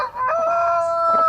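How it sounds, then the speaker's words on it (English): A cockerel kept with seven hens outside an artist's studio in Somerset crows loudly and close by, one strong, tonal call that fills the short moment. "we're looking at my 7 hens and 1 cockerel"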